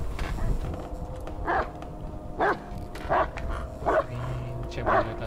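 Dog barking in the horror video game Blair Witch: five short, separate barks at steady intervals, moderately close, set over a low rumbling ambient bed.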